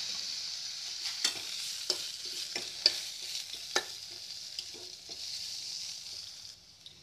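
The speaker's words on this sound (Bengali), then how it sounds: "পেঁয়াজ ব্রাউন হয়ে গেছে আমি নামিয়ে ফেলবো" Onions fry and brown in a pan with a splash of vinegar, giving a soft continuous sizzle broken by irregular scraping clicks as they are stirred; close, moderately quiet, no talking.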